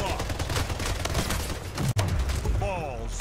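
Dense rapid gunfire from the Splitgate arena shooter game, a sustained burst of repeated shots mixed with game effects, with a voice talking briefly over it.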